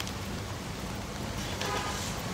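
Steady rain patters and hisses across the ground at a self-service gas station, a dense, even wash of sound throughout.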